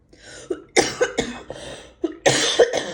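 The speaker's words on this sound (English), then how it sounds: "This bloody cough is getting on my nerves" Several harsh coughs in quick bursts, close and loud, with short pauses between fits.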